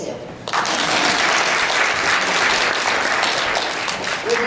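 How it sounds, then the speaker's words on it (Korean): An audience at a Korean gerontology panel discussion breaks into applause for themselves, starting abruptly after a brief pause and holding as a full, steady clapping crowd. "여러분을 위해서 박수 치세요."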